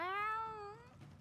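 A cat meows once in Tales of Xillia 2, a single drawn-out, clear harmonic cry close up that fades at the end, with no talk over it.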